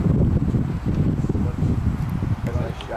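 Strong gusting wind on a golf course roars across the microphone, a dense low rumble with rustling, steady throughout.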